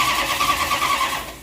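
A neglected 1968 Dodge wagon engine, sitting for 25 years, cranks and catches in a steady, close, loud churn that fades slightly toward the end.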